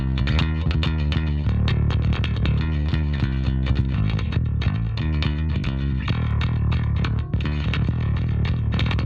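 An electric instrument runs through an OTTO Audio Heavy Compressor pedal set to fuzz distortion with the distortion mix fully up, playing a dense, sustained riff of loud, thick, saturated notes without pause.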